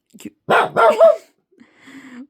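Several sharp, close indoor dog barks from a dog guarding the door come in a quick burst, then a fainter whine or yip follows. A person reacts in speech around them.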